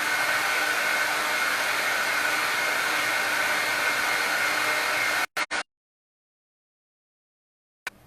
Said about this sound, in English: Now I'm going to have to blow dry real quickly.